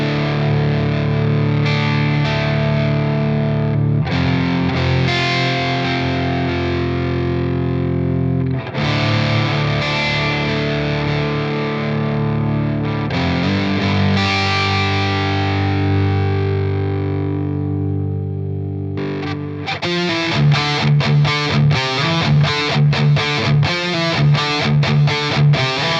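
Electric guitar played through a Marshall DSL100HR 100-watt tube amp, loud and heavily distorted: sustained ringing chords first, then a fast, tight, chugging palm-muted riff, with no voices.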